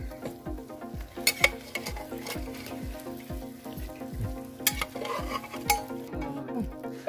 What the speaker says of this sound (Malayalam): കുക്കറിൽ നിന്ന് പകർന്ന ചിക്കൻ നമുക്ക് ഇതിലെ കറിയിലോട്ട് ഇട്ടതിന് ശേഷം നന്നായിട്ട് ഇളക്കി കൊടുക്കണം